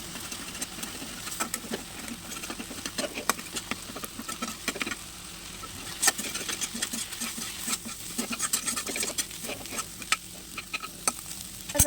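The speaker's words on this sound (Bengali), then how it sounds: "দিয়ে ভালোভাবে ভেজে নেবো এটাকে" Beaten eggs with salt fry in a pan while being stirred, producing a soft sizzle broken by frequent sharp clicks and scrapes of a spatula, close and irregular, with no talking.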